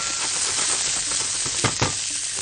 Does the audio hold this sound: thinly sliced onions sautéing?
yes